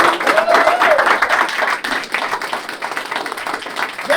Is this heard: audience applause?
yes